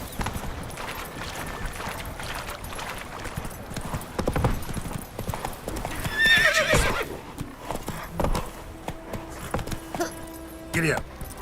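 Horse galloping in the video game Witcher 3, with steady clip-clop hooves throughout, a whinny partway through and a few sharper knocks, all close and fairly loud while someone talks over it.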